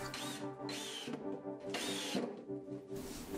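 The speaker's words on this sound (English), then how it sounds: "more pre-drilling and screwing" Power drill driving screws into a wooden framework of plywood, several short whirring bursts with rising pitch, separated by brief pauses, close and fairly loud.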